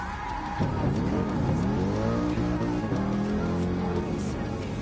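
A Mercedes SLS engine in the Gran Turismo Sport beta revs and whines loudly as tires squeal through a sustained drift, pitch rising and falling throughout.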